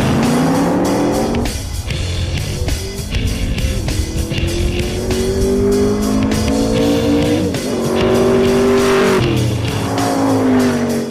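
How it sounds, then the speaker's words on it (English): A 427 Cobra and a Spyker C8 launch in a drag race, loud engines roaring and climbing through gear changes with a tire squeal at the start, sustained high-revving engine noise throughout. "Now it's time for a real world drag race."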